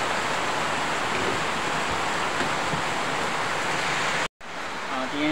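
Constant downpour of rain with a dense, even hiss, briefly cut off near the end before resuming, faint speech traces beneath.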